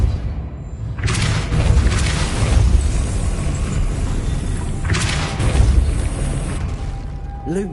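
Two heavy Depulso spell blasts from the video game Hogwarts Legacy land several seconds apart, each a loud, booming burst that rolls on with a rumbling, noisy body before the next one hits.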